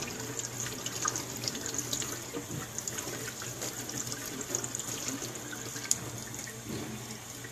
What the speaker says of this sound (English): And then rinse it under water.